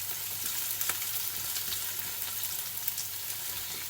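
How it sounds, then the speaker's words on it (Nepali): Onion and garlic fry over high gas heat with a steady, moderate sizzle and crackle and a few light stirring ticks. No voices are heard. "हामीले प्याज र लसुनहरू भुट्दाखेरि चाहिँ ग्यास चाहिँ हाई हिटमा राख्ने"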